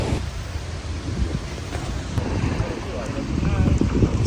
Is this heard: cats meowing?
no